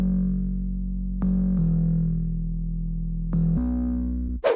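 Reese bass synth from a future house track, deep sustained notes changing pitch across a chord progression, a few attacks marking each change, heavy and upfront with no voices.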